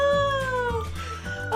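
A cartoon cat meows in the Animal Jam online game, a single drawn-out, gliding meow that is loud and close with no talking over it.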